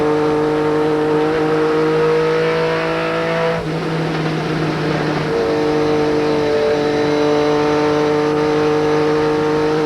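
Goody's Dash Series race cars at Bristol Motor Speedway in 1998, a loud steady droning engine roar from the field with a sharp break in the middle before the sustained whine resumes.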